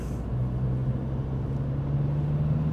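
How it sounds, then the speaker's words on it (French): Low, steady engine hum of a Honda Accord 2.2 i-CTDi diesel heard from inside while driving, a constant rumble with a faint tonal drone. "On sent le diesel, hein. Pas trop de bruit, mais ça avance."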